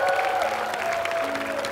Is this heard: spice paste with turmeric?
no